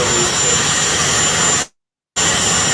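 A couple of helicopters pass overhead with a loud, continuous engine roar that cuts out abruptly for a moment before returning.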